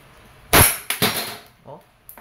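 A Wingun 708 airsoft revolver fires steel BBs at a plate on a stand, giving two sharp, loud cracks about half a second apart. Fainter clinks and a brief voice sound follow.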